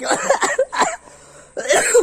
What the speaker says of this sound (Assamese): দেখিছে কাহ ঠিকেই হোৱা নাই এতিয়ালৈকে কাহ ঠিক হোৱা নাই